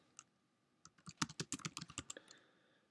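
Quick burst of typing on a computer keyboard, a dense run of crisp close key clicks lasting about a second and a half after a couple of isolated taps, in a quiet room without speech.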